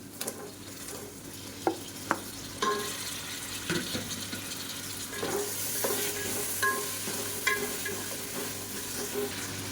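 Tomatoes and green chillies sautéing in a pan for mutton biryani, a steady sizzle with several sharp spoon scrapes and clinks against the pan, close by and fairly loud, with no talking.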